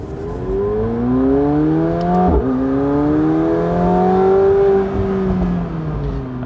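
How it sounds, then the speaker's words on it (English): A McLaren 720S Spider's 4-liter twin-turbo V8 revs and pulls hard through the gears, a loud, continuous engine note rising in pitch, briefly dipping with a shift, then climbing again. "you do get to hear that fantastic 4-liter twin turbo V8"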